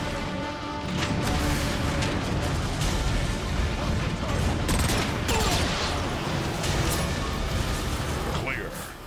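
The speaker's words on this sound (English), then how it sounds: "The Ark is getting shelled pretty bad by those warp cannons." Warp cannons shell the Ark in the Transformers: Fall of Cybertron video game, a sustained barrage of booming blasts, crashes and mechanical clatter filling the scene at high, steady loudness with faint voices mixed in.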